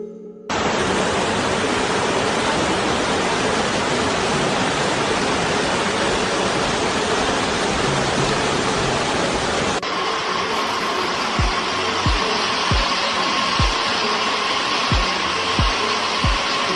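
Floodwater from the overflowing Krueng Tangan-Tangan river rushes loudly and steadily in a dense, continuous roar, with a few dull knocks breaking through in the later part.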